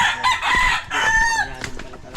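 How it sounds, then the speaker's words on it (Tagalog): Pet chickens on a Filipino homestead cluck and squawk in bursts close by, with a rooster's crow standing out among the flock and brief quieter gaps between calls. "Ito mga alagang manok ni ni Makoy"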